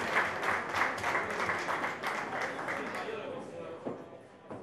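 Warm audience applause greets a singer at a Caffè Letterario evening, a steady dense clapping from a small crowd that holds for several seconds and then thins and fades toward the end.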